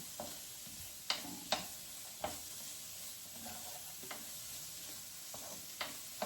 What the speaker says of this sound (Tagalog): isote lang po natin hanggang yung maamoy muna talaga yung mga aroma ng garlic, onion, and the ginger